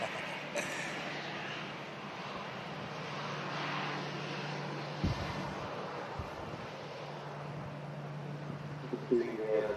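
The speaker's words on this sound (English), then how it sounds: "And the Scandinavian for Copenhagen, just getting itself lined up now on 2-3 right for departure." A Scandinavian airliner bound for Copenhagen idles as it lines up on runway 23R at Manchester Airport, a steady distant engine hum under gusty wind noise while someone talks over it.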